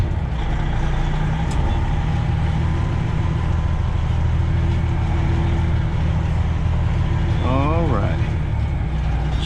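A Freightliner Classic yard truck idles in a low diesel rumble as it pulls forward to straighten its trailer, steady and close, with someone talking over it and a brief warbling tone near the end.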